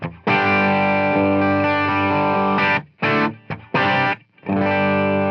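An electric guitar played through a TONEX ONE amp model inside a Helix gives thick, distorted sustained chords, loud and up close, broken by a few short gaps and brief stabs before ringing out again.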